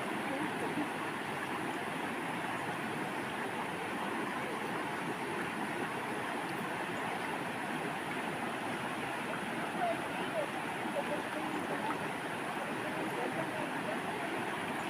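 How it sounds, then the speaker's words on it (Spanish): Río de la Lima on the Costa Chica of Guerrero flowing in the rainy season, a steady, close, broadband rush of water that holds level throughout without a break. "Y así está este río ahorita."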